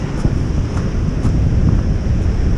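Steady wind blowing on a cold beach at about 10 to 15 mph, a continuous loud rushing roar with mic buffeting and faint surf underneath, no voices.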